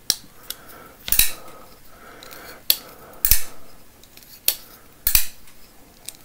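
A Sharp By Design Mini Evo folding knife is flicked open and closed, giving crisp, close metallic clicks that come in repeated pairs at a steady pace against a quiet background.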